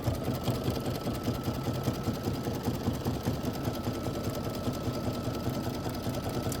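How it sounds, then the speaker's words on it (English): A sewing machine runs a steady continuous stitch for a table top display craft piece, a close, even mechanical whir with a fast regular needle rhythm and no pauses or speech. "This is going to be 5 minutes of stitching."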